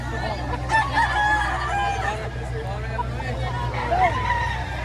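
A rooster crows amid a busy outdoor market scene in Padre Garcia, Batangas, with people chattering and a steady low rumble of traffic underneath.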